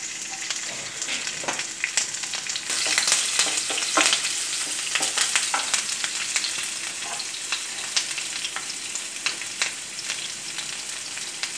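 Green chillies sizzle and fry in hot oil with mustard seeds, ginger and garlic for a mango and carrot vegetable pickle. A steady, dense hiss runs throughout, with frequent sharp stirring scrapes, close and loud, and no talking.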